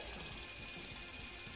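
Bicycle pedals turning on a bike being adjusted, the freewheel ratchet and chain giving a steady, rapid, even clicking that is close and quiet, with no talk.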